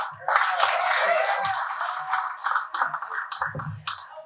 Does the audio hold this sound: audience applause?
yes